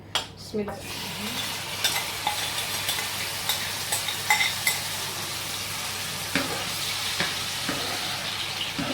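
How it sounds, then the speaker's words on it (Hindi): Yogurt and mutton frying in a pot on the stove, a steady sizzle with spoon stirring and scraping clinks against the metal throughout, no talking. "इसको हमने हल्का सा इसमें भून लेना है ताकि जो दही है वो अपना रंग बदल ले।"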